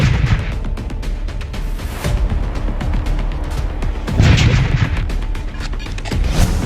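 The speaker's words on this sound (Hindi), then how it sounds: "दर्जनों राउंड फायरिंग और बमबाजी" Gunfire and bomb blasts ring out during a violent clash between villagers and company supporters at the Hilltop company premises in Baghma, India: repeated loud bangs and booms in irregular bursts over a noisy, chaotic background.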